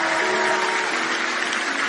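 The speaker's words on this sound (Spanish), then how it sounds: "este aplauso sale de corazones agradecidos" A church congregation claps in worship, a loud, dense wash of applause with sustained musical tones underneath, steady throughout.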